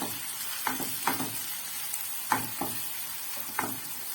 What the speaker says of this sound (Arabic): هندي كده تشويحه للبصل وبعدين نشوح الخضار